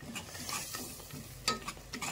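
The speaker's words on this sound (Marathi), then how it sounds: "पाणी टाकलेलं आहे, चांगलं हलवून घ्यायचं." A few quick spatula scrapes stir drumstick masala curry in a pan after water has been added, with a soft simmering sizzle beneath.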